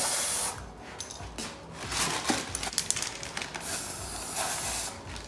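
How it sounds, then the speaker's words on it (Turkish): Fragrance sprays into a shoe box in several short pressurized hissing bursts, close and fairly loud, separated by brief pauses and light handling noises. "Kutuya koymadan önce bence bir koku sıkalım"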